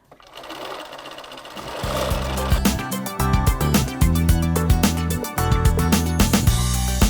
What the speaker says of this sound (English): So we've got 3 horizontal seams to do. So just sew up to your pins.